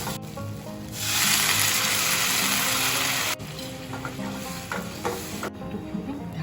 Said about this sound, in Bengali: নাড়িয়ে চাড়িয়ে ভালো করে মিক্স করে জল দিয়ে দেবো।